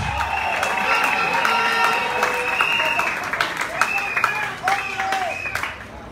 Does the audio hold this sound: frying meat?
no